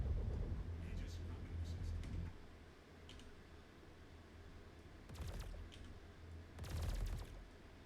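Size 3 repeater cannons on a Star Citizen gunship's lower turret fire in short, sharp bursts in a sci-fi space game, two rapid volleys standing out over a low hum and some faint clicks.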